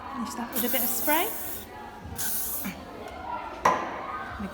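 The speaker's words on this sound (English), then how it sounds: "Finish that with a bit of spray." Hair spray is applied to a finished show hairstyle of bunchy buns, with a couple of short hissing bursts while someone talks nearby.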